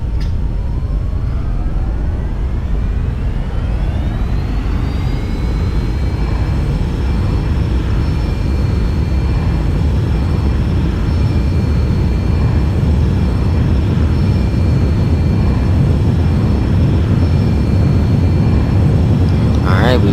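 The engines of a Boeing 737 in the X-Plane 11 flight simulator spool up to full takeoff throttle, a loud, steady jet roar with a whine that climbs in pitch over the first few seconds and then holds level, with no talking.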